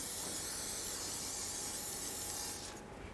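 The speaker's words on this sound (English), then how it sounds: "I like to spray everything down with a good amount of penetrant." Penetrant sprays in one continuous close hiss onto the fuel filler neck hose clamps of a Chevy S-10 pickup, steady and strong for nearly three seconds before cutting off, no talking.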